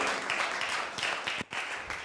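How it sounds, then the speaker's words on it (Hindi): A church congregation claps together during a Hindi-language sermon, a dense sustained patter of many hands filling the room, briefly dipping before resuming. "आए हम तालियां बजाकर खुदा के नाम को जलाल दें।"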